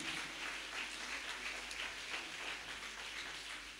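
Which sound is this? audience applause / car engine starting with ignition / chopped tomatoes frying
audience applause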